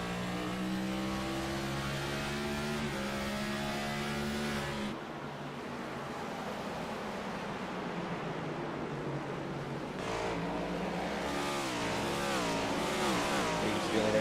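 Race cars at Richmond Raceway roar continuously through turns one and two as one car overtakes another, engines loud and sustained with shifting pitch as the pack passes.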